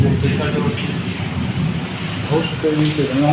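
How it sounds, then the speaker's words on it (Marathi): Rain patters steadily outside, a soft continuous wash, while faint voices murmur beneath it near the end. "बाहेर मस्त पाऊस येतो"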